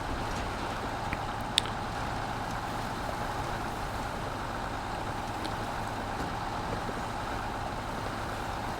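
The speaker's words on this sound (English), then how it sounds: "Alright, come on truck, let's see if you can get up this hill." A heavy truck engine laboring uphill in the off-road driving game Snowrunner, a steady low rumbling drone throughout with a faint click or two, no talking.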